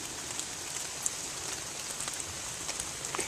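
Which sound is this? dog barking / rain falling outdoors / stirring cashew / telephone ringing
rain falling outdoors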